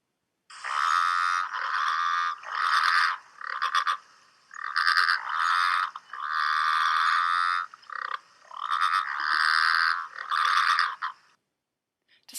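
Growling grass frog calling near a creek, a long, loud, rasping motorlike croak repeated in drawn-out bursts with short pauses between, alone with no voices.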